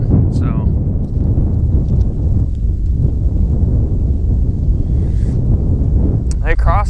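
Strong wind buffets outdoors in a loud, continuous low roar, with short bits of speech breaking through near the start and end.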